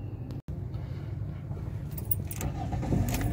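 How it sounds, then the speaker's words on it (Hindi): A 2007 Toyota Probox with an accelerator fault is started, its engine settling into a steady low rumble close by, with a brief jangle of keys early on and a short dropout near the start. "सबसे पहले गाड़ी करते हैं स्टार्ट और चेक करते हैं इसमें क्या मसला आ रहा है"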